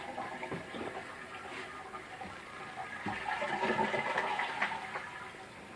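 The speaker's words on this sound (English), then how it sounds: "And we'll flush it one more time with the lid to make sure it's working." A repaired household toilet flushes with the lid down, a steady rushing gush of water that swells and then settles into the hiss of the tank refilling, close by and without talking.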